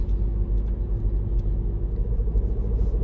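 A car driving on a city road at around 50 km/h during a driving test, a steady low engine and road rumble heard from inside the cabin, continuous and even throughout with no talk.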